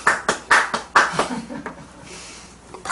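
During a church sermon, a congregation gives a few sharp, rhythmic bursts of clapping close by, about four distinct claps in quick succession that then fade into quieter room noise.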